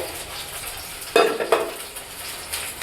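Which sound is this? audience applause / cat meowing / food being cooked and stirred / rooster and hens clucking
food being cooked and stirred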